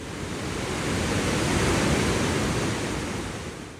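Blue river water rushing steadily near Gilgit, a dense, loud, continuous roar that swells slightly and fades, with no voices over it.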